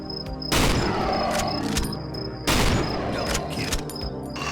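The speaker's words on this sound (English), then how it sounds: "In this next area you get some dank headshots with your newly acquired sniper rifle" Sniper rifle gunfire in the horror video game Cry of Fear, with two loud, booming shots about two seconds apart, each followed by a long, echoing decay over a constant high tone.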